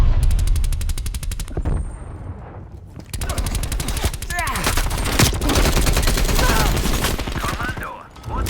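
Rapid machine-gun fire in Call of Duty, loud bursts of closely spaced shots with brief pauses and some scattered whistling effects.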